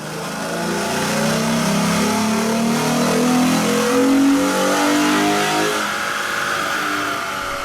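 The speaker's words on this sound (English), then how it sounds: "Now let's run this car on the dyno again" A 2011 Mustang engine with BBK headers and X-pipes, on stock mufflers, revs up steadily on a dyno, its pitch climbing then holding high before easing off, loud and continuous with no talking.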